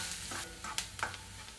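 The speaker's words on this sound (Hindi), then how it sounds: "अब ये ऑनियन भी इसमें डाल देंगे, अब हल्का सा इसे ट्रांसलूसेंट होने देंगे" Onion frying in a pan with garlic, ginger and chili for palak paneer, a soft sizzle with a few stirring scrapes and light clinks over about two seconds, close by.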